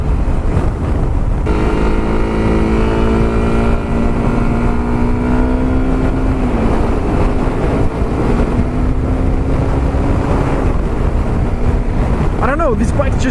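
A Honda CRF250 Rally motorbike being ridden at a demo day, its engine droning loudly and steadily with pitch rising and falling through gear changes, under heavy wind buffeting against the microphone.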